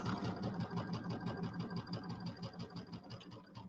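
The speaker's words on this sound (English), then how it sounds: "stitch all the way around my little pillow with the, whoops here" A sewing machine runs a quarter-inch seam around a small pillow, its needle chattering in a fast, even rhythm with a low mechanical hum, close and steady from start to finish.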